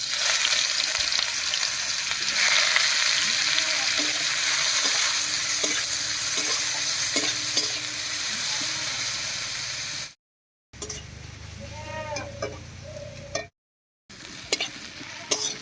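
Chopped onion hitting hot mustard oil after dry red chilli and whole garam masala, a loud steady sizzle with stirring scrapes, then after short gaps the frying carries on more brokenly with crackles and pops.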